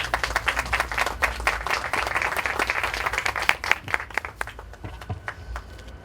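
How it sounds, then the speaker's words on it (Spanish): Loud, sustained audience applause at a Catholic university round-table event in Peru, dense clapping that fills the hall for several seconds before thinning out toward the end. "Lo recibimos con fuertes aplausos."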